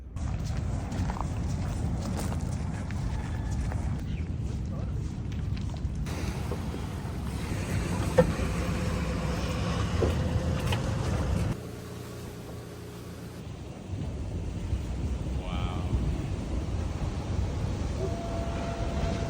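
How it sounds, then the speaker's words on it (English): A boat heads out on the water off Teahupoʻo, Tahiti, its engine droning steadily with sloshing water and wind, briefly dropping quieter near the end before resuming. "We're going out on the boat."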